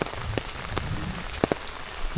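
Rain falling on a forest trail in Kep National Park, Cambodia, a steady soft patter with a few sharper nearby drop hits, heard alone without talk.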